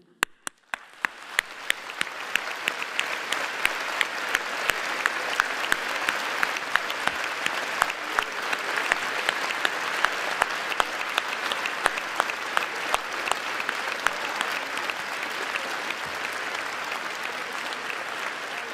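Audience at a 2025 HEP Vaud teaching diploma ceremony applauds steadily for nearly twenty seconds, a dense, loud, even wash of clapping from the crowd with no talk over it.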